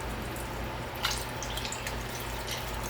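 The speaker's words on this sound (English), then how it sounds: "that will be a combination of coconut milk" Coconut milk and water poured into a pot for one-pot spinach rice, a soft close trickle and dripping of liquid with small splashes and no voices.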